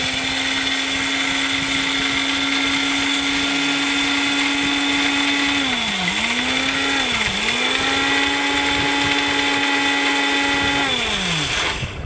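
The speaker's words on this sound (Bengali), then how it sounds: "তো শুকনো চাউল কিন্তু গুঁড়ো করে দেখাই যে ভাই দেখেন ব্লেন্ডারটা" A countertop blender grinds dry rice into powder, a loud steady motor whine with strong harmonics running the whole time, dipping in pitch briefly a few times as the load shifts, then winding down at the end.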